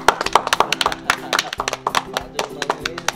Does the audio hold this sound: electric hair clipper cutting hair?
no